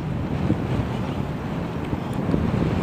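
Steady, gusty wind buffets the microphone outdoors at a paragliding launch. A continuous broadband rush with small surges and no clear voices.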